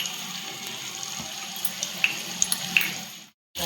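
Mackerel (bangda) fish fries in hot oil, a bright continuous sizzle with a few sharp pops and spits, close and fairly loud, cutting off briefly near the end.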